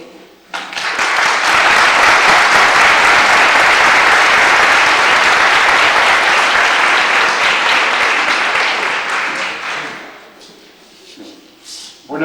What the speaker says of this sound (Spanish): nosotros darle el cariñoso recibimiento y aplauso que él se merece